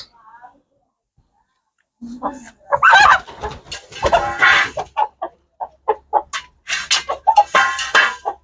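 A hen of an original cross breed clucks in short, repeated bursts at close range, mixed in with a person talking nearby.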